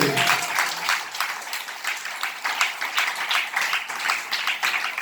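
An audience at a Christian Telugu sermon breaks into applause, a sustained, dense clapping that swells and ebbs in rhythmic waves for several seconds and stays fairly loud, with no speech over it.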